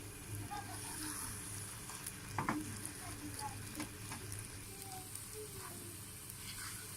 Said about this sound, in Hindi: आपने इसमें गुठलियाँ बिल्कुल नहीं बनने देनी। चम्मच चलाते ही रहना है आपने।